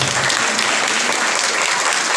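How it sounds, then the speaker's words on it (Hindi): Applause for doctors and nurses during a Sunday Holy Mass, a dense, loud, continuous roar of clapping from a large congregation filling the whole stretch. "इनके लिए ज़ोरदार तालियां बजाएंगे।"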